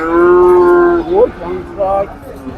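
Cattle at a livestock market in Monirampur, Jessore, low and loud, with one long drawn-out moo followed by a shorter rising call and a brief third lowing.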